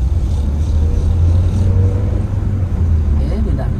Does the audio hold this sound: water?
no